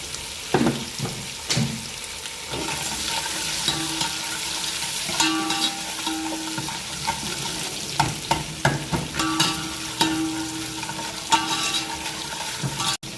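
Onion roasts in a pan, giving a steady close sizzle broken by repeated scraping clinks of a spoon stirring, with sharper knocks toward the end and no talking.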